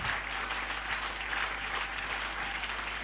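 A church congregation applauding at a worship service: steady, dense clapping from many hands that holds evenly for the whole stretch, with a low hum underneath.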